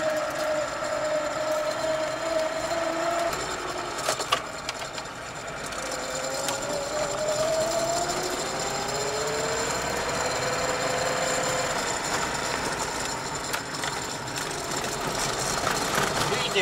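A 1999 VAZ 2104 car engine drones steadily while driving, with whining tones rising and falling as it shifts and a constant rattling road noise inside the cabin.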